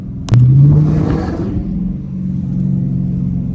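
Dodge Challenger R/T engine while driving, a steady loud low rumble from inside the car with a brief rising rev near the start that settles into a sustained drone.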